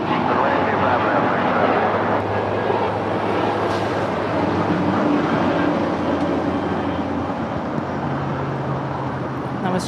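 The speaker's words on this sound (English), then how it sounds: "That was China Cargo 229 going long from Shenzhen." A China Cargo airliner takes off at LAX, a loud sustained jet roar filling the air with steady intensity, while a voice talks over the noise.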